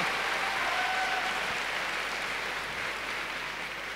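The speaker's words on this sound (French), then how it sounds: "on peut l'applaudir" A convention crowd at a manga artist's talk claps continuously, a broad even wash of applause without pause, fairly close and steady throughout.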